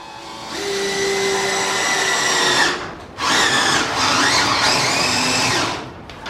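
A power drill boring holes in a pot whines loudly in two long bursts, speeding and slowing with the load, separated by a brief pause, with no talk over it.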